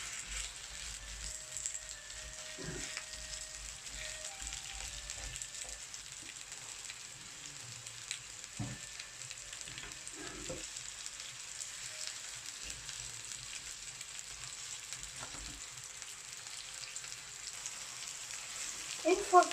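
Onions frying in a pot give a steady, soft sizzle under faint kitchen noise, with a few small knocks and stirring sounds along the way.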